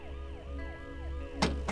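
An ambulance siren wails in a steady rising-and-falling cycle, moderately close, with two sharp bangs like doors or knocks near the end.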